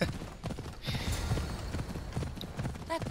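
Horse hooves clip-clop at a steady walking rhythm in the video game Assassin's Creed Odyssey, close and clear, with faint game ambience and murmuring voices underneath.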